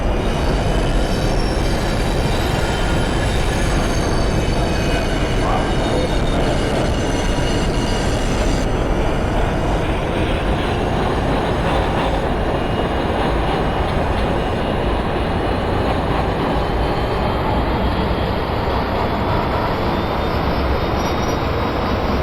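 A New York City Subway R142 train runs in the OpenBVE train simulator on a snowy route, giving a loud, continuous rumble of wheels on rails with high wheel squeal throughout and no voices.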